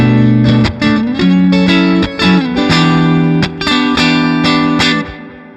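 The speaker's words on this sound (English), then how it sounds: "So let's just start on our neck pickup. Clean tones, as per usual." A 75th Anniversary Fender Telecaster electric guitar on its neck pickup with a clean tone plays a short phrase of sustained, ringing notes and chords, loud and close, with no talk.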